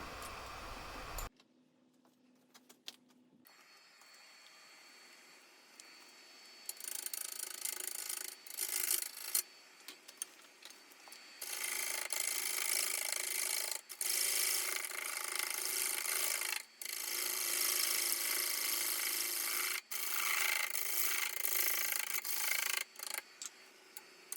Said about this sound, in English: I'll put the burl up against it with my tailstock and then true up the tenon